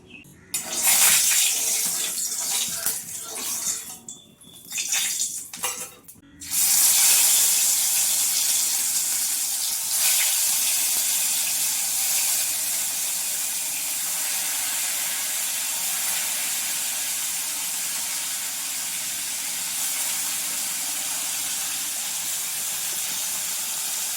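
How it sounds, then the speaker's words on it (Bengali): Paneer coated with salt and turmeric hisses steadily as it fries in hot oil. The sizzle is loud and broadband, and there are a few brief breaks early on before it settles into a continuous spitting hiss with no talk. "পনিরের মধ্যে অল্প লবণ, অল্প একটু হলুদ গুঁড়ো মাখিয়ে নেব, দিয়ে দেবো তেলের মধ্যে, তাহলে তেলটা ছিটকাবে না।"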